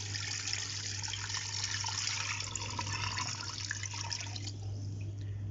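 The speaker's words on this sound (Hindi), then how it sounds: "इसमें जाएगा 3 लीटर पानी।" About 3 litres of water pour steadily into a pot of 1.5 kg mutton with a spice bundle for yakhni pulao, a close, continuous splashing rush that stops near the end, over a low steady hum.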